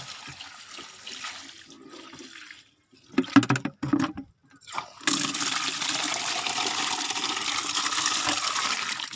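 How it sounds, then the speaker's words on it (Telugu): Water pours steadily, with a rushing splash that briefly stops and restarts, then flows continuously and fairly close for several seconds. "కొంచెం నీళ్ళు పోసి పెడతా."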